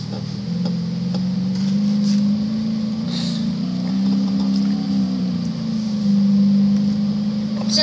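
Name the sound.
BMW race car driven by AI, engine driving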